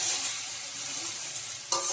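Spices frying in a pan for egg pulao give off a steady sizzle, with a brief stir or scrape near the end; no one speaks.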